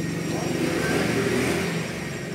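A Mazda RF engine runs during a test, a close, loud, steady mechanical drone with a rising tone in the middle.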